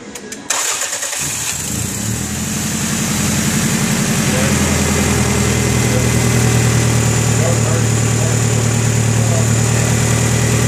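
A 1989 Toyota Camry engine with a cat-back exhaust cranks and starts, then settles into a steady, close idle with a low, even exhaust rumble that continues throughout.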